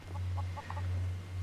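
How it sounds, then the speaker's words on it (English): Chickens in a farmstead animal pen in the video game Skyrim give a quick run of four or five soft clucks over a steady low ambient hum. "you've got your animal pen that's got your ox and your chickens in it"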